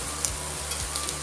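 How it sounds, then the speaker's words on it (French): Large pieces of meat brown in a pan, giving a steady, close sizzle and crackle with a few soft stirring knocks and no talk. "je vais mettre ça dans ma casserole pour le faire rissoler."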